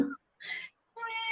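A house cat meowing close by, three short separate calls with brief pauses between, the last one longer and more tonal.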